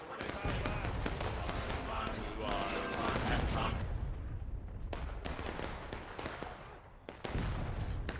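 Pistol volleys crackle in a Civil War battle video game, dense, overlapping shots and booms rolling continuously with brief lulls, loud and close, under a busy battlefield din.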